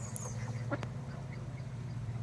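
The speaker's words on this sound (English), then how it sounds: "And these ducks are going crazy." Ducks quack faintly in the distance in an English countryside setting, a few brief calls over a low steady background hum, with no one talking.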